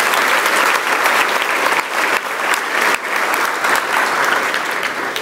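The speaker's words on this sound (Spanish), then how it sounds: "déle un aplauso a Dios con todo su santo corazón" A large church congregation claps continuously, a dense, steady wash of applause that holds at full strength throughout.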